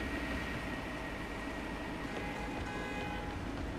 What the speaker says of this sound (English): Tapping into the train system should help me follow the train's path.